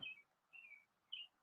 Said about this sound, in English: I hear birds in yours.